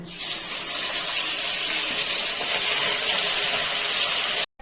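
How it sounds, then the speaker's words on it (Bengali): Hilsa fish coated in turmeric, salt and chili powder sizzles in hot oil in a pan, a loud, steady hiss that runs throughout and cuts off abruptly at the end. "এখন হালকা অল্প ভেজে নিব।"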